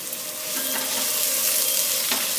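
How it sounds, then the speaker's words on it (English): Thinly sliced onion strips fry in a hot pan, giving off a steady, dense sizzle that holds at an even level throughout, close and without any talking. "you want to hear the sizzle once you put the onions there"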